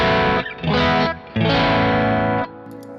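An electric guitar through a Kemper Profiler drive with the guitar volume at 8 plays two loud, saturated chords that ring out distorted with a slight chorus-like shimmer, with a brief gap between them and no talking.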